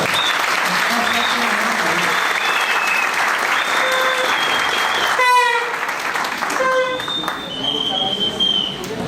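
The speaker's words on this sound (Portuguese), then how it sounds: "Salva de palmas para a turma aqui." A seated audience at a car-dealership prize draw for an Onix promotion applauds with sustained, dense clapping that stays loud throughout and fades a little near the end, with some voices mixed in.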